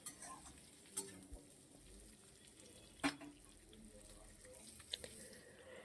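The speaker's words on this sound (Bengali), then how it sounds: "আলু, গাজর, বিনস দিয়ে একটু ভালো করে একটু ভাজা ভাজা করে নেব।" Potatoes, carrots and beans fry in a pan while being stirred, a soft continuous sizzle with occasional sharp clinks and scrapes of a utensil against the pan, fairly faint and with no talk.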